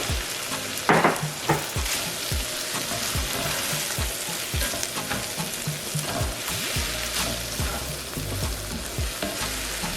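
Ham and shrimp curry fried rice sizzles steadily in a frying pan while a utensil scrapes and stirs it in regular strokes, close and alone with no talking.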